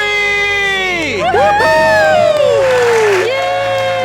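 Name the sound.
family shouting a celebratory scream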